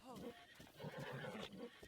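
A horse whinnies and snorts in a quiet Breath of the Wild game soundscape, a short high neigh followed by rough breathy snorting, fairly faint.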